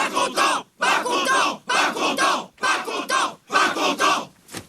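A large film crowd shouts and roars in unison against the villain, in five loud surging bursts separated by brief pauses, with no single voice standing out.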